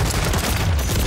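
Dense burst of rapid automatic gunfire in Call of Duty, loud and close, a fast string of overlapping shots filling the whole moment.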